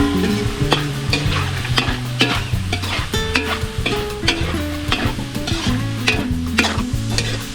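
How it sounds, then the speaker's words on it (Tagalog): Spicy beef lung frying in a pan, with loud sizzling and repeated stirring scrapes in an irregular rhythm, close up, and no speech. "saka po natin ipiprito"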